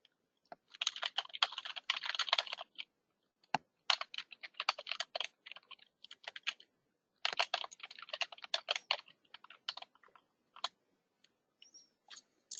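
A username and password typed on a computer keyboard: close, crisp key clicks in quick irregular bursts with short pauses between, quiet and alone.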